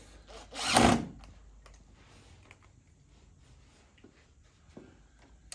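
A power driver briefly whirs as it drives a screw into the gearbox plate of a residential door, one loud burst near the start followed by quiet handling clicks and faint knocks.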